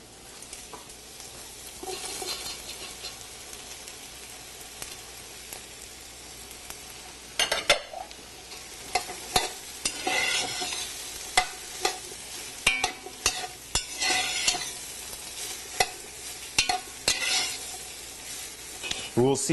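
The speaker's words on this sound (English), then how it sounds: "Then we can add the zucchini, the zucchini, and yellow squash, summer squash." Sliced zucchini and yellow summer squash frying in a hot pan, a steady sizzle broken by repeated scraping and clacking of a utensil as the vegetables are stirred, close and alone without talk.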